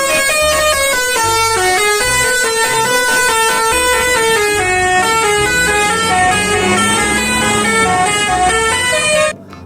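A purple bus's telolet horn plays a continuous melodic run of bright, tuned tones, loud and close throughout and cutting off abruptly at the end.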